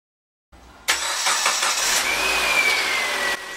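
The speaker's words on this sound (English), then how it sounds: "Start the engine" Mitsubishi Lancer engine cranking briefly and catching, then settling into a steady, close idle with a faint high whine, heard alone without talk.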